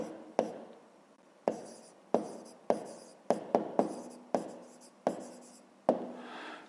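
Pen strokes on paper during a fifth-grade math exercise: a dozen or so short, crisp taps and scratches in an irregular rhythm, close and distinct against near silence.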